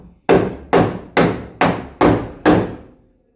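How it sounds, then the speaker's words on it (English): Six sharp metallic hammer blows on metal against a dolly ring out at an even, fairly quick pace, each one loud and close with a short ringing decay. "we'll get the dolly and the hammer and we'll get a beating into shape"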